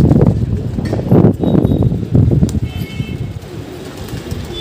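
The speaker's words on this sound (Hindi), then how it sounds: "और भी ऊपर में कबूतर उड़ ही रहे हैं" Pigeons flying overhead give bursts of flapping wings and low rustling, fairly loud and close, with faint cooing mixed in.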